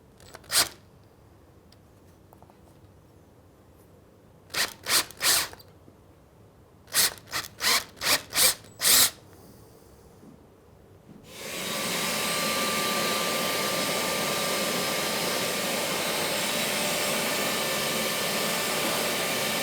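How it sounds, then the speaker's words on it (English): An electric drill bores through an aluminium guide bar into a Moto Guzzi rocker cover, starting with scattered short bursts and taps, then running as a loud, steady whine for the final eight seconds. "it was actually quite difficult to control the drill during that process"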